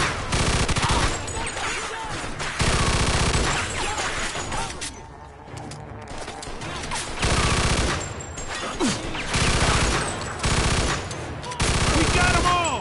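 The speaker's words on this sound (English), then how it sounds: "Stop shooting that fucking thing. I'm going deaf over here." Heavy automatic gunfire in Mafia 2 Definitive Edition, loud sustained bursts broken by short lulls, with crashing and shattering mixed in and voices shouting over the shooting.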